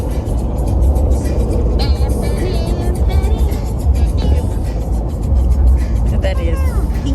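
Steady low road rumble and engine drone inside a car on a family road trip, heard from the back seat, continuous throughout with faint voices and cabin noise over it.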